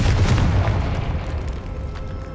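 Confringo explosive spell in Hogwarts Legacy, a loud booming blast that rumbles and slowly decays, with no speech over it.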